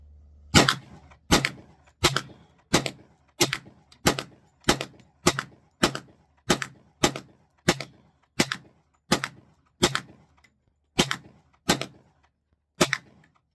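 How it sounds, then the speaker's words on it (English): A Springfield Armory XDM Elite 10mm pistol fires about eighteen sharp, loud shots at a steady, even pace, each crack followed by a brief echo, with no talking. "That was 50 rounds through the XDM today."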